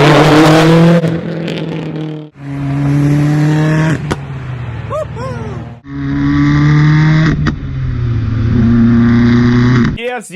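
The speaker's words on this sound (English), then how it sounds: "We hear the blow-off valves, we hear the mods, we hear the exhaust" A modified turbocharged Subaru engine with aftermarket exhaust and blow-off valve revs loudly and close, its pitch climbing and falling over several long pulls, with short sharp bursts between revs.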